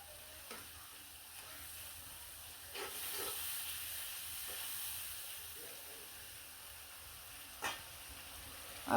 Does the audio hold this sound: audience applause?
no